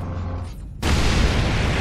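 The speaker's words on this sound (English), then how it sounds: "Orc rocket launchers on the high ground." An Ork rocket launcher explosion in Warhammer 40,000: Space Marine bursts suddenly after a brief quiet lull, a loud, close boom that spreads into a sustained, noisy roar.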